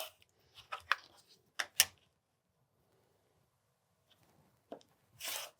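A rotary cutter slicing 2.5 inch fabric strips for a quilt block along a ruler: a few faint, quick crunching swipes in short bursts separated by near silence, close and quiet, with no talking.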